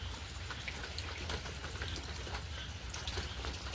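Light outdoor rain patters in a soft, even wash, with scattered drops heard faintly over a steady hiss.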